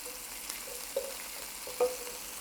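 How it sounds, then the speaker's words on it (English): Minced garlic sautéing in a pan for a vegan lima bean Mediterranean dish gives a soft, steady sizzle with a couple of sharper spits or pops, fairly quiet and with no talking. "we'll saute that for a couple of minutes as well, until it's lovely and fragrant"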